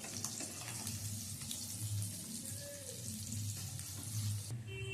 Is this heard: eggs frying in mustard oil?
yes